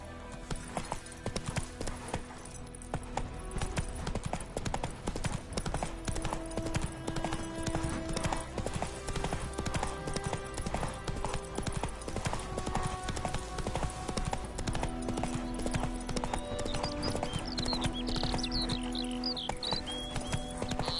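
Horse hooves clip-clop at a steady galloping rhythm in The Witcher 3 video game, loud and continuous, with game music and ambience running underneath and occasional faint noises on top.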